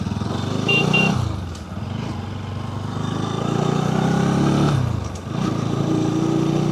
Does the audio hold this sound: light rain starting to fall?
no